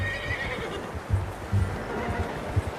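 In Red Dead Redemption 2, a horse gives a loud, close whinny with a few hoof clops around it, and no talking.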